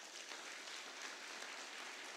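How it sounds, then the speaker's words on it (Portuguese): Steady applause from a church ceremony crowd clapping for Sister Silvânia, a dense, even wash of many hands held at a moderate distance with no voices over it. "Eu queria uma salva de palmas para a irmã Silvânia."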